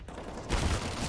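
A short burst of AK rifle gunfire in Counter-Strike, loud and sudden after a brief quiet lead-in, with a few shots packed tightly together.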